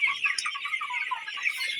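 Sonali chickens cluck steadily in a poultry shed, a dense, continuous chorus of overlapping birds close by with no talk.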